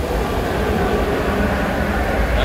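A train rolls past a fishing lake as a steady, continuous low rumble throughout, fairly close and without a break.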